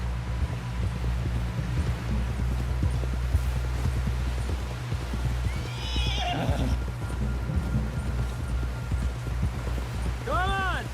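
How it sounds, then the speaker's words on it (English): In Red Dead Redemption 2, horse hooves clip-clop steadily beneath a low rumbling backdrop, ending with a loud horse whinny near the close. "Someone help John down off this horse."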